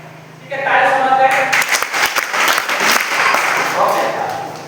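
A room of people breaks into loud applause, dense clapping that swells in after a spoken voice and carries on for several seconds before easing, with speech heard around it.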